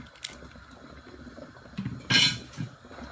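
A spoon stirs a rice and soybean mixture in a pot of boiling coconut milk, with faint scrapes and a few light metallic clinks against the pot, close and quiet.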